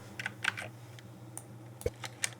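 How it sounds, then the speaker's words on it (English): Typewriter sound effect laid into an edited track, a run of irregular sharp key clacks with a heavier thump near the end, close and clear, no voices. "Going to copy paste the typewriter sound"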